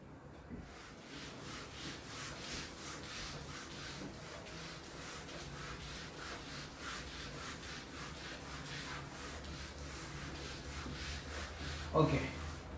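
A board being rubbed or erased during a mathematics lesson, a continuous scraping rub with rhythmic strokes close by, ending in a brief louder knock.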